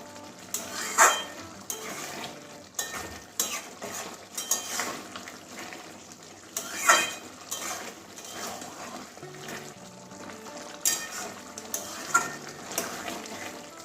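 A metal spoon stirs garam masala into a bottle gourd and prawn curry in a pan. It scrapes and clinks again and again in an uneven rhythm over a soft, steady sizzle, with no talking.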